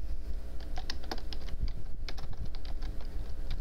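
Fingers tap rapidly and irregularly on a computer keyboard, a close clatter of key presses that continues without pause and without speech.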